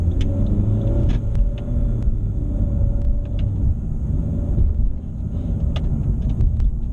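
A 2017 Honda Civic hatchback engine hums and rumbles steadily while driving, loud and close inside the cabin, with faint sharp clicks and ticks above the drone.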